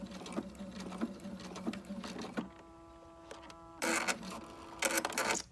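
A sewing machine stitches quilt fabric toward a mitered corner, running in steady buzzing bursts with a brief pause and a faint hum before restarting louder.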